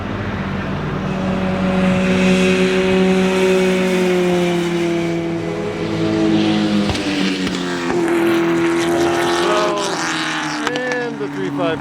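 A small H-mod vintage race car circles the hill at Thompson Speedway, its engine droning steadily in the middle distance with rising and falling pitch as it shifts and passes, other cars faintly audible.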